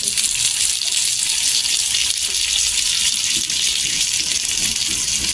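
Stuffed bitter gourd fries in oil on a griddle over low gas, giving a steady, close hiss of sizzling that holds evenly from start to finish with no talk over it.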